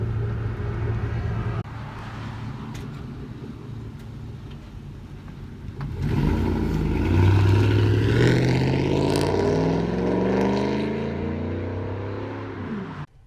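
A deep, loud 2004 Chevy Silverado 4.8 V8 with dual straight-pipe exhaust rumbles at idle, then surges into a heavier, throatier roar with a rising pitch before easing off near the end.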